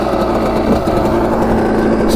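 Two-stroke Suzuki RM125 dirt bike engine running steadily at a fast idle, a buzzy high-pitched drone with a constant raspy note throughout, close and loud, no talk over it.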